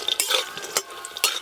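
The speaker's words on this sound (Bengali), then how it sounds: "বটবটি করে রান্নার জন্য প্রথমে বড়িগুলো একটু ভালো করে ভেজে নেব।" Sun-dried lentil boris fry in mustard oil in a village kitchen, a soft sizzle broken by sharp scrapes and clinks of a spatula stirring against the pan, close by and without talk.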